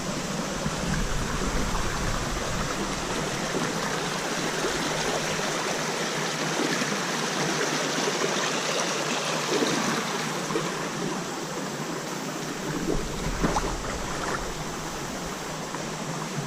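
Creek water in an inner-city streambed rushing and splashing over rocks, a steady broadband flow heard up close and fairly quiet, with no talking.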